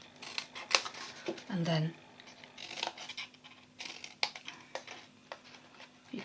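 Scissors snipping through a folded C6 paper envelope, with a run of crisp, close cuts and rustling paper; a person talks briefly in the middle.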